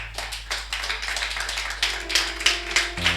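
Congregation at a church service clapping rhythmically in steady repeated bursts, close and lively, with a sustained musical tone underneath.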